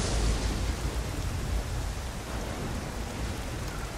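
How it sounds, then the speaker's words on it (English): Rain falls steadily in the video game Nioh, a dense, even hiss that continues without a break and with no voices over it. "I hate rain in games."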